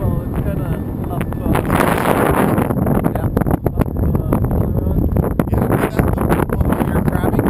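Strong gusty wind buffets an open microphone during T-33 jet flying in high winds, a loud continuous low roar that swells and dips throughout, with voices talking underneath.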